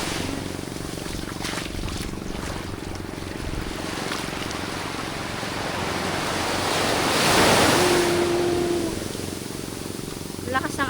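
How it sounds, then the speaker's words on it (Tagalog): Strong ocean waves wash onto a beach at sunset, a steady broad surf roar that swells louder near the middle, with wind buffeting the microphone and faint voices in the background. "Lakas ng alon ngayon ah."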